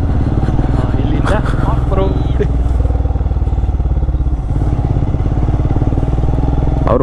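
Motorcycles ride along an off-road trail with the loud, steady drone of engines running throughout, close by, while people talk over the engine noise.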